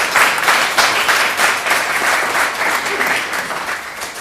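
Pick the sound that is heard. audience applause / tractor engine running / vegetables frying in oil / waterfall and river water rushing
audience applause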